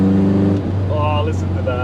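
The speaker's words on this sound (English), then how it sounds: "never ever get enough of that Tourist Trophy exhaust" MGB sports car with a Tourist Trophy exhaust, tuned engine and new air filters, driven at night from onboard, with a steady low exhaust drone throughout.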